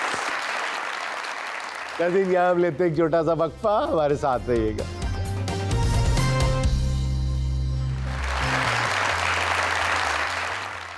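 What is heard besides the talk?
audience applause for the winner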